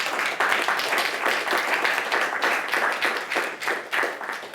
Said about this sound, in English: And it's a clap.